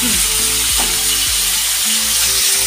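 Loud, steady sizzling of spices frying in a pan, a dense crackling hiss that continues without pause and without voices.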